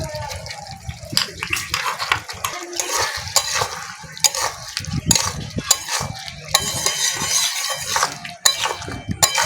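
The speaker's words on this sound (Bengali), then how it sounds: "আলু আর ব্রোকলি ভালো করে মশলার সঙ্গে কষিয়ে নিয়েছি" Potatoes and broccoli stirred and fried in spice paste in a pan for a Bengali rui fish curry with cauliflower, steady close sizzling with repeated scraping of a spoon against the pan.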